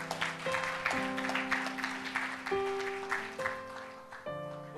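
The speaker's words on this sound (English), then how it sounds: "let's give the Lord a hand clap of praise" A church congregation claps in praise over sustained keyboard or organ chords that shift every second or so; the clapping is a steady, moderately loud patter beneath the held notes.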